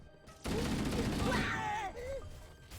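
Frag grenade explosions in the Halo video game burst out loud and close in a dense, sustained roar, trailing off into rumbling gunfire, with groaning character voices rising over the blast.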